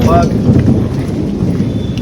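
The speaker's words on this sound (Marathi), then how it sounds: "पाऊस तर चालू आहे" Steady, dense rain with a deep rumbling undertone, close and loud, continuous throughout with faint voices beneath.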